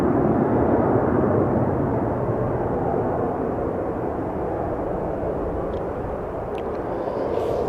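An airliner climbing away after takeoff from runway 36L at Amsterdam Schiphol gives a steady, broad jet roar that holds loud and slowly eases, with no talk.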